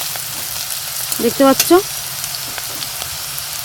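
Vegetables and chowmein fry in a pan with a steady, soft sizzle, while a voice speaks briefly over it.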